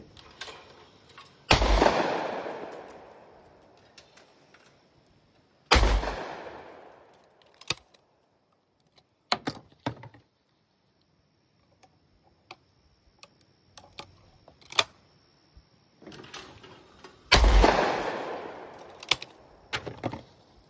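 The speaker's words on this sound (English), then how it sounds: "we'll just shoot them as quick as we can" Rapid gunshots from a high-velocity 1,125 FPS gun, three sharp loud reports spaced several seconds apart with faint clicks and ticks of handling in between, no voices.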